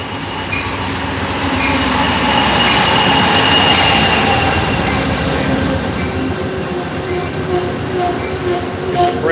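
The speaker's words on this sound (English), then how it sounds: "Should hear the train rolling in now." A train rumbles and clatters steadily as it rolls in, wheels squealing faintly, a loud, close, continuous roar that swells then eases slightly.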